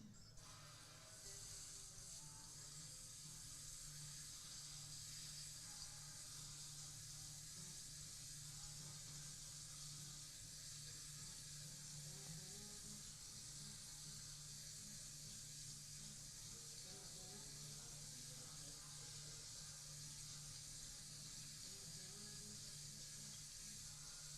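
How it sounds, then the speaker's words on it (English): Kitchen faucet running steadily while tomato seeds are rinsed in a strainer, a faint continuous hiss of water with a low steady hum underneath, unbroken for the whole stretch. "Crank up your your faucet and start rinsing."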